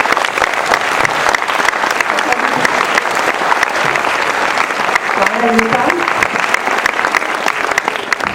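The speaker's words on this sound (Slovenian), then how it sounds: "En velik aplavz." Loud, sustained applause from a large audience fills the space, with a voice speaking briefly partway through.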